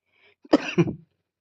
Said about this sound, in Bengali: প্রথমেই বলে দিচ্ছি একটু কাশির সমস্যা হয়েছে